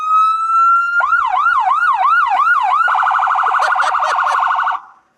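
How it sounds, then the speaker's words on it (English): A US police car siren blares close and loud, starting with a rising wail, shifting into a fast yelp, then a rapid piercing phaser warble before cutting off abruptly. "Right, US, what you got? Lights and sirens."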